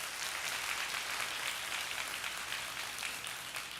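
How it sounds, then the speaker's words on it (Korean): A church congregation at a Sunday worship service applauding, a steady, broad wash of clapping throughout, fairly distant and even, with no talk over it. "믿음 30일을 허락하신 하나님께 영광의 박수 올리시겠습니다"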